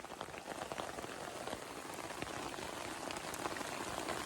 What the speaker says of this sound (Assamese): উধাই মুধাই বৰষুণ দিছে মানে, এইফালে চাওকচোন, গোটেইখন পানী পৰিছে ইয়াত।